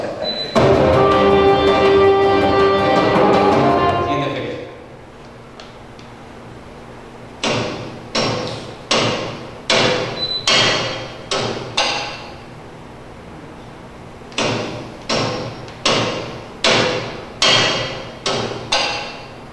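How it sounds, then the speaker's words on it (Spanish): Someone hammering nails: after a few seconds of louder, busier sound, a run of sharp, ringing hammer blows lands in quick bursts of several strikes, with short pauses between the groups. "Alguien clavando, ¿no? Martillazos."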